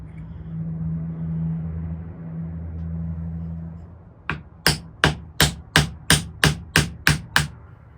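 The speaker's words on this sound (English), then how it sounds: "Now we're gonna try to punch it out." A hammer strikes a metal punch to drive out pieces of a broken knife, nine sharp, evenly spaced metallic blows ringing close and loud after a stretch of low machine hum.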